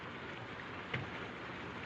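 Steady rain hisses softly and evenly over a short stretch, with one small knock partway through and no voices.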